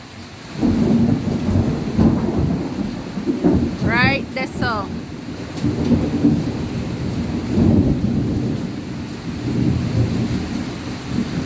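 A thunderstorm with steady rain, heavy thunder rumbling through the downpour while a person speaks briefly over it.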